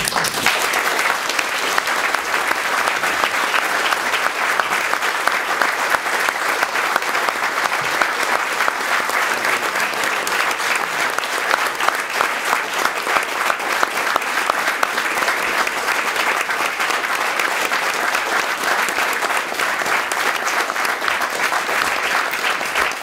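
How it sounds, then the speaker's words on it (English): A debate audience applauds in sustained, dense clapping that carries on steadily for the whole stretch, loud and close, with no pauses. "if there's more of this applause, we won't have time for the last intervention."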